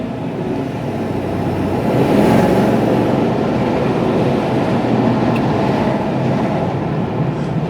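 A lifted 2019 Chevy Silverado with a BDS lift kit cruises around the block, a steady broadband road and engine rumble with tire roar holding constant throughout, heard from inside the cab.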